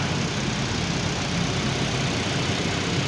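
A Mitsubishi Xpander's engine idles steadily after a jump start from a power-bank jump starter, its low, even hum running unbroken and close by with no talk over it.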